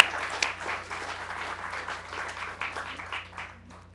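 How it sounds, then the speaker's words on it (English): A brief round of applause from an event audience thanking sponsors, moderately loud and steady, fading slightly toward the end. "Maybe we can do a quick round of applause."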